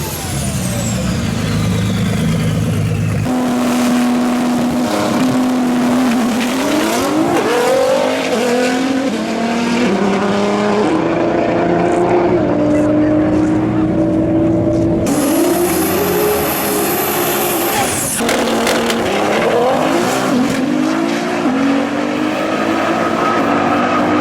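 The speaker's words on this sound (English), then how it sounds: "GTR Unlimited class getting ready to run some drags" Twin-turbo GTR Unlimited class cars drag race at TX2k24. Loud, close engines rise and fall in pitch through repeated revving runs, with tire squeal and turbo whine.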